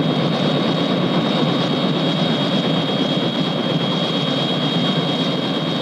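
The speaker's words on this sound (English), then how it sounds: "isn't that your helicopter over there?" A helicopter drones nearby, a loud, steady, unbroken engine and rotor roar with no voices over it.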